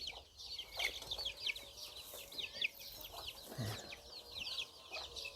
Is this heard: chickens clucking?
yes